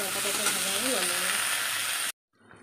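Vegetables frying in a pan on a home kitchen stove, a steady loud sizzle lasting about two seconds and then cutting off abruptly, with a faint trace of sound afterward.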